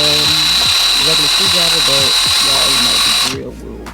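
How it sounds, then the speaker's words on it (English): A cordless power drill whines loudly and steadily while unscrewing handles from a dresser, then cuts out abruptly near the end as a person talks throughout. "I am removing all of the dresser handles with my handy dandy drill"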